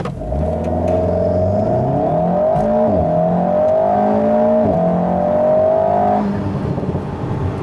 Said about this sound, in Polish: Przekłada się to na takie przyspieszenie od 0 do setki.